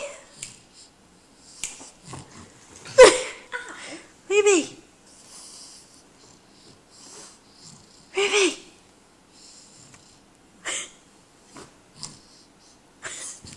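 A dog sneezes sharply a few times between quiet stretches, close and loud, each sneeze a short burst of snorting breath amid soft rustling.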